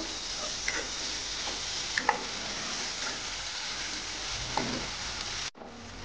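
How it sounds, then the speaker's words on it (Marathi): Tomatoes cooking in a pan until soft, a continuous close sizzle with a few light clicks and taps of a utensil against the pan, cutting off briefly near the end. "टोमॅटो आपण छान असं याच्यामध्ये शिजवून घेणार आहोत नरम होईपर्यंत."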